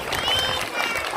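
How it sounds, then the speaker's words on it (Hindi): An audience at a school farewell program claps in a brief, dense burst of applause, fairly close and continuous for about a second. "एक बार फिर से तालियों से इनका स्वागत करें"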